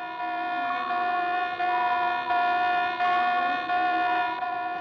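A general quarters alarm sounds aboard a 1960s navy warship, a steady, sustained tonal wail with slight pulsing in loudness, heard alone and fairly loud throughout.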